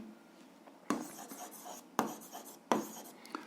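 Pen strokes on paper while working an algebra exercise at a desk, three sharp taps of the pen landing followed by brief scratchy writing, close and quiet with no talk.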